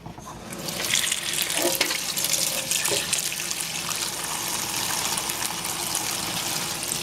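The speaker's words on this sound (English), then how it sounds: "just run water through it so it drains the blood out" Tap water gushing steadily through a package of raw liver in a sink, a loud continuous splashing rush with no speech.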